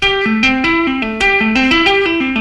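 A clean electric guitar plays a fast, smooth tapped arpeggio, notes cascading in a repeating up-and-down pattern at steady volume with no voices.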